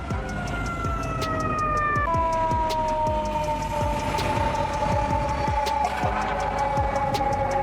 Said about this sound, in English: Hazmat Response Unit, used in fires involving chemicals, radiation, or hazardous substances.